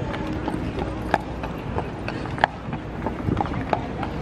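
A Central Park carriage horse clip-clops along at a steady walking pace amid busy outdoor city noise, the hoofbeats moderately close.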